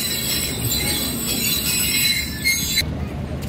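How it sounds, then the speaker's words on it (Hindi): Train arriving at a railway station in Sindh, with loud, continuous squealing of wheels on the rails over a rumbling roll of the cars, the screech cutting off sharply near the end. "अब ट्रैक पर भी कोई ट्रेन आ रही है इस वक्त"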